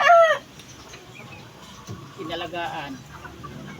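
Chickens kept for white plumage cluck and call briefly near a person speaking, the fowl sounds short and close under the talk.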